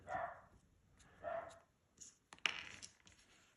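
A dog indoors gives a few faint, short vocal yelps in the background, spaced irregularly among soft rustling and handling noises in a quiet workshop.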